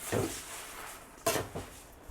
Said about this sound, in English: Put a lid on the pot and just stir it occasionally.